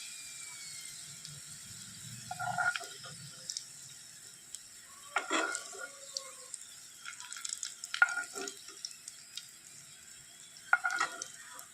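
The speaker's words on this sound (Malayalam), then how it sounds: "ഈ ഉണക്കമുന്തിരി നന്നായിട്ട് ഫ്രൈ ആയി വരാൻ തുടങ്ങിയിട്ടുണ്ട്" Raisins frying in a pan, soft intermittent sizzles and light stirring scrapes over a quiet background, close but faint, with occasional louder crackles.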